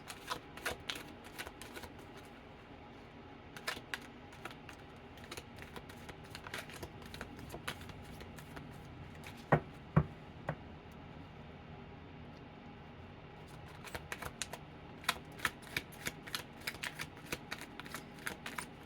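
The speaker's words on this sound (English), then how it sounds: "I'll shuffle one more time and grab the other deck" Soft, continuous riffling and snapping of cards being shuffled, with quiet stretches between flurries, close and faint.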